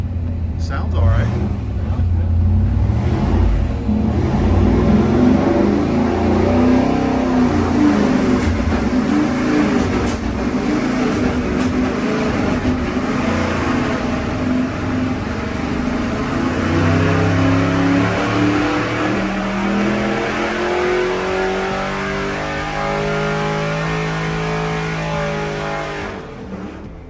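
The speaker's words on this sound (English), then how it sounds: "take an LS motor and you throw a carburetor on" A carbureted 5.3 LS V8 roars and revs on an engine dyno, holding loud, sustained throttle with rising and falling pitch near the end, and voices are heard under the engine.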